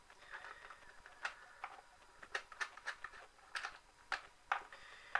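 Screws are being taken out of a Hornby R965 model train controller, giving faint, close, irregular small clicks and ticks of a screwdriver on screws and plastic.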